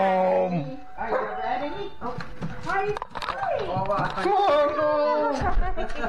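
A puppy barks, yips and whimpers excitedly at close range as someone arrives home, the high whines and short barks mixed with animated human voices.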